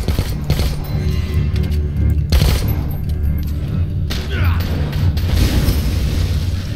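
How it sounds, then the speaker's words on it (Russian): Grenade blasts and gunfire in the zombie game Dead Rising 4 pound loudly throughout, with several heavy booms and rattling bursts layered over a constant rumbling backdrop. "Ловите гранату с сюрпризом"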